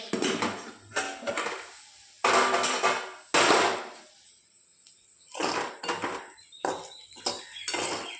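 A lid comes off a cooking pan of vegetables with taro over a lowered gas flame. Several loud, close metallic clanks and scrapes arrive in separate bursts with quiet gaps between them.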